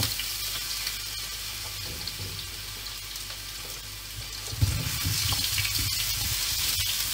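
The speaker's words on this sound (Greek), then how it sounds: "Και έτσι όπως είναι, ρίχνω τις πατάτες μέσα." Potatoes with their skins on drop into a hot oiled pan with a sudden burst of sizzling, after a quieter background hiss, then keep frying in a steady, close crackle with no talking.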